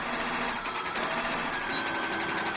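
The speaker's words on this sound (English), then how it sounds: "So I'm going to back stitch at the beginning and then just sew all the way down" A sewing machine runs steadily while stitching quilt binding, giving a continuous rapid needle chatter and motor hum at close range with no voices.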